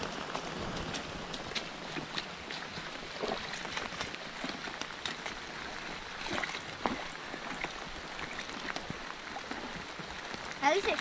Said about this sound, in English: Just walking in the rain.